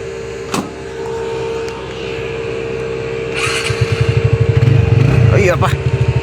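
A motorcycle engine starts and settles into a steady, rhythmic idle putter in the second half, loud and close, while someone talks throughout.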